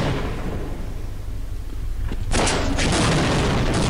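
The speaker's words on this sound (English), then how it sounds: "I just happened to be walking towards it as it blew up." A tank blows up in Half-Life, a loud, sustained booming blast that suddenly swells into a harsh, roaring explosion with no speech over it.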